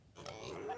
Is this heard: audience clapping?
no